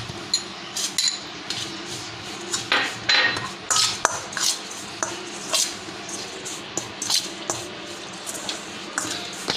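Ground spices, among them coriander powder, kachri powder and turmeric, are mixed in a large bowl, giving an irregular run of close metallic clinks and scrapes of a utensil against the bowl, alone and fairly quiet.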